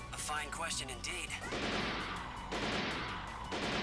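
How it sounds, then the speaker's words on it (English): Sniper gunfire in Mighty No. 9, a burst of sharp, loud shots cracking one after another after a stretch of in-game speech. "Sniper fire? I detect no robots in the area capable of long-range gunfire."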